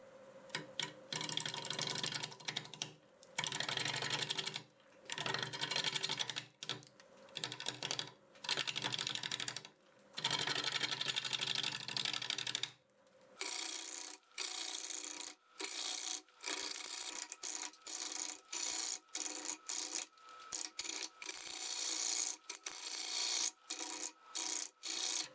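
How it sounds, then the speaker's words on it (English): A bowl gouge cuts guava wood spinning on a lathe at about 780 RPM, with bursts of rough scraping and rasping separated by short pauses, growing more choppy and intermittent toward the end. "I'm going to start with a 5/8 bowl gouge, doing about"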